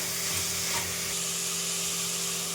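Tomatoes stirred into a sizzling tempering for methi pulao, a dense continuous hiss of hot oil close up with faint stirring movement underneath and a steady low hum.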